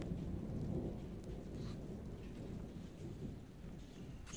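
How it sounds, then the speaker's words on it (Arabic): Thunder rumbles through steady rain during a storm in Riyadh, a deep, continuous roll close and loud over the constant hiss of falling rain, with no voices. "صوت الرعد والبرق ما شاء الله"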